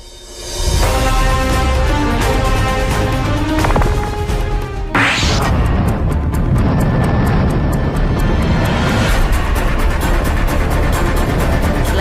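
A loud, roaring bomber tanker jet aircraft touching down in a near-accident landing, with a sharp screech and thump midway as the wheels hit the runway, engines rumbling throughout.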